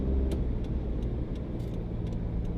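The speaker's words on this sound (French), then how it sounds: "On a repris la voiture." Car driving on a road on Miyake-Jima, a volcanic island in Japan, with a steady engine and road rumble throughout and a few faint ticking clicks on top, with no talking.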